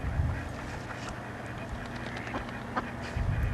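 Ducks on a pond, including one white duck among a flock, quack in short scattered calls over steady outdoor background noise, fairly close and moderately loud.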